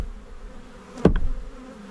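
Honey bees from a swarm caught in a trap hum in a steady low buzz, with one loud close buzz as a bee passes right by, then the hum settles again.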